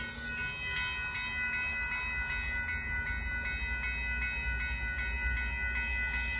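A northbound Union Pacific limestone train passes a road crossing in Austin, Texas, with a loud low rumble of rolling wagons and a steady, sustained horn chord sounding throughout.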